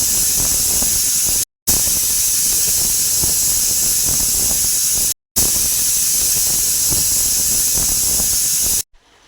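A pressure cooker boiling potatoes releases a loud, continuous hiss of steam under pressure, cut by two brief silences before it stops abruptly.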